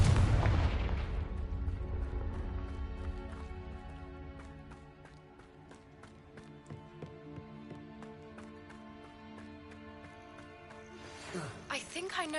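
Confringo blasting-spell explosions in the Hogwarts Legacy video game, a loud booming burst at the start followed by a long crackling, ringing tail under game music, with another blast near the end.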